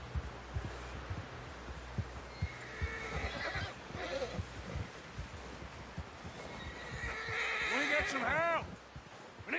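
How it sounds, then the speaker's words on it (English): A horse whinnies loudly near the end amid a busy Red Dead Redemption 2 scene, with hoofbeats, ambient noise and several voices talking and calling out throughout. "Someone help John down off this horse."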